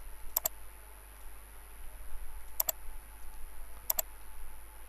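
Three pairs of quick, faint computer mouse double-clicks spaced a couple of seconds apart over a low, steady hum inside a room with server equipment.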